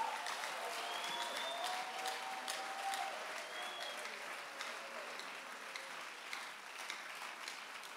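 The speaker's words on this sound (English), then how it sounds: "Put your hand for Jesus" A church congregation claps and applauds for Jesus during a sermon, a dense, steady wash of many hands lasting throughout, with faint cheering tones rising above it.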